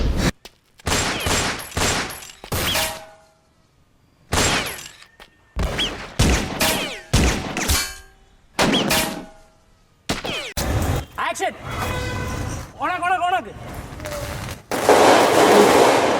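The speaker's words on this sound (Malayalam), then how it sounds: "വയർ പടക്കത്തിൽ കൊടുക്കുന്നു, ആ വയറിന്റെ ഹീറ്റ് വെച്ച് സ്വിച്ച് ഓൺ ആകുമ്പോൾ പൊട്ടുന്നു" Firecrackers set off by wire as gunfire effects during the shoot of a low-budget action film: a long series of sharp cracks and rattling bursts, some in rapid runs like automatic fire, with a few short spoken voices between them.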